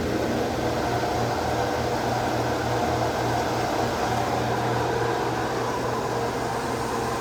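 A steady, loud mechanical hum with a constant whooshing hiss carries on unbroken as fuel recirculates through an auxiliary fuel tank on a pickup flatbed, driven by a pump.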